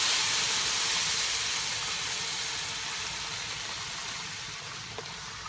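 A blended tomato and onion mixture sizzles and hisses steadily in a pot of Mexican rice, a constant close, broadband fry that eases slightly quieter over several seconds.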